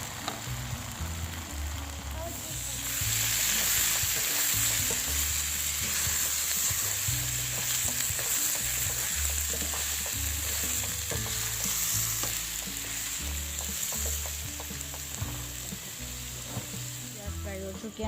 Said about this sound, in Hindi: तो हल्की आंच पर 5 मिनट फ्राई करेंगे। भिंडी फ्राई करनी है,